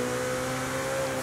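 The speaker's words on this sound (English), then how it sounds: "The screaming V8" A 2014 Ferrari California T's 3.9-liter twin-turbo V8 in Forza Horizon 5 holds a steady, loud engine drone with strong harmonic tones, sustained briefly without pause.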